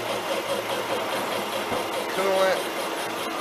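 A metal lathe runs steadily after its start lever is engaged, cutting a baffle pulley sheave, a constant mid-pitched motor hum with a brief whine partway through.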